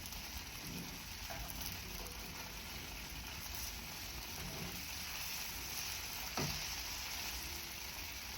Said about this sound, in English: You don't need to fry this too hard.